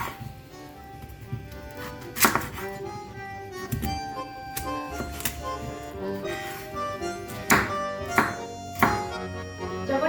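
A knife chopping pumpkin into cubes on a board, with irregular thunks and knocks repeating over several seconds at moderate loudness, mixed with other kitchen clatter and background noise.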